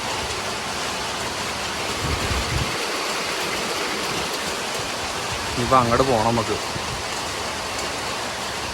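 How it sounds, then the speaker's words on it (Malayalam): Heavy rain falls in a dense forest as a constant broadband hiss, and a person talks briefly over the downpour. "നല്ല മഴയായി."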